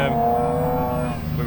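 A drift car engine at an Emmaboda test day drones loudly and steadily nearby with a rich harmonic tone, then dips slightly near the end. A voice talks over it.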